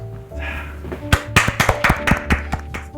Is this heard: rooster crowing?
no